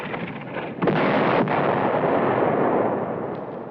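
Heavy artillery fire in a 1951 war film: a loud booming blast rolls into a sustained, dense rumble with a second thud partway through, close and forceful, no speech.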